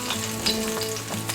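Garlic in olive oil sizzles steadily in a frying pan, a close, even crackle with small stirring pops, heard alone without talking.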